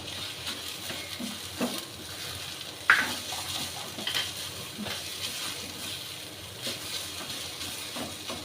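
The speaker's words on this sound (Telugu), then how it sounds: "ఈ మధ్యలోనే దీన్ని అయితే మనం ఇప్పుడు మొత్తం మిక్స్ చేసుకుని కలుపుకోవాలి" Egg and chicken noodle mixture with carrot stirred in a hot pan, steady sizzling and frying with a few scraping utensil strokes against the metal, close and moderately quiet, no voices.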